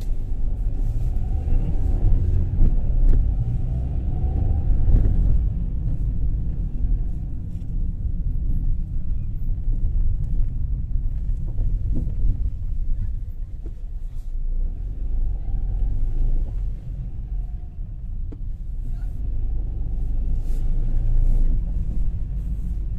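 Car engine rumbling steadily while driving on a road near the settlement of Berezovy in Krasnodar, with road noise, a slight swell as it turns around, and no speech.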